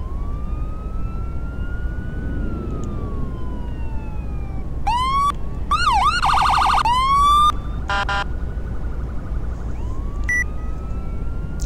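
An ambulance siren in a Tennessee roleplay video game community: a rising and falling wail with quick yelp bursts in the middle, loud and close over steady engine rumble, with no talking.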